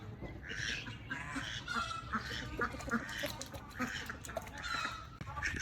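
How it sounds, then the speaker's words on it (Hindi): Ducks quack and honk in a busy yard while being fed wet bread, repeated nasal calls overlapping at close range, with other poultry nearby and no clear talk. "यहाँ पर ये हमारी डक्स हैं।"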